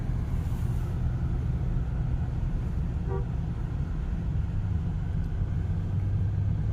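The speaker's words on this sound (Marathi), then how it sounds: "इथं ट्रॅफिक जाम लई झाली" Steady low rumble of traffic backed up on a road near Junnar after a fallen tree blocked it, with idling engines throughout and a brief faint horn toot midway.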